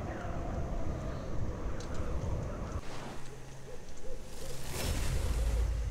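Birds in the video game Citadel: Forged with Fire give repeated low, hooting, owl-like calls over a rushing wind-like ambient bed, moderately loud and steady throughout.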